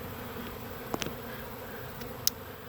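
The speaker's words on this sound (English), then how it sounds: "We got a pretty exciting swarm going on here." Honeybee swarm buzzing close by in a dense, steady hum, with a few sharper individual buzzes and faint clicks breaking through, no voices.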